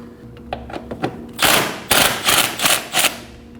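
A socket wrench ratchets out 12mm intake plenum bolts on a 2011-2016 Kia Optima engine, starting with light clicking and then turning into several loud, rapid ratcheting bursts close by.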